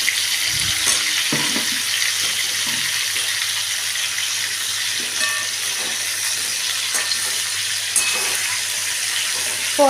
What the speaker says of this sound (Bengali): এবারে আমি পটলগুলোকেও ভেজে নিচ্ছি।